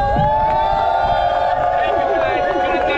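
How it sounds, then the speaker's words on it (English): Crowd at a protest cheering and clapping for a crew, a dense steady roar of voices with whoops and applause, loud and close throughout. "everybody give a round of applause for the UFDA crew"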